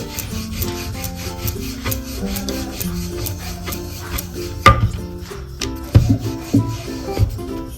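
Momo dough is rolled out very thin with a little flour, a rolling pin making close, rhythmic rubbing strokes against the board with occasional louder knocks and taps.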